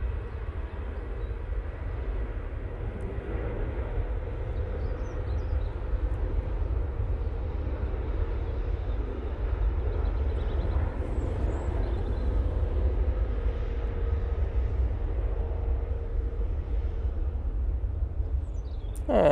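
A Ryanair airliner taking off from Manchester Airport for Shannon, a steady low engine roar held at an even level throughout, distant and broadband with no talk.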